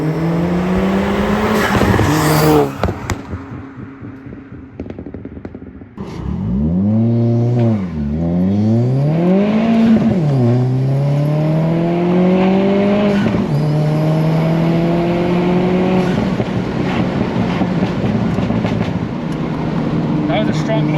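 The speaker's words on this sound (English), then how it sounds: "that turbo noise" A turbocharged 320 bhp Alfa Romeo Giulietta revs hard and launches, pitch climbing through gears with a whooshing turbo whine, loud and close, voices briefly in the background.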